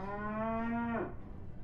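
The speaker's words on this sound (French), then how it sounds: "Il s'est transformé en vache!" A cartoon cow from the Sam & Max video game gives one long, loud, steady moo lasting about a second, which then cuts off and leaves a quiet background.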